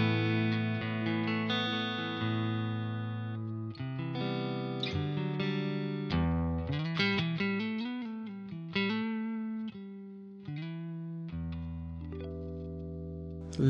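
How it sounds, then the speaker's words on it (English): Clean electric guitar played through a Ruby amp straight into an audio interface, with a little reverb: sustained strummed chords and single notes ringing steadily and close, with no talking. "this is the clean sound then, just into the Ruby and into my interface."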